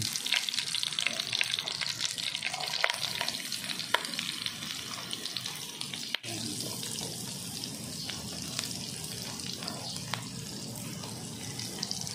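Garlic fries in a pan for a budget spaghetti sauce, a constant crackling sizzle close up with scattered clicks and scrapes of stirring, sounding partly like running water, and faint voices in the background.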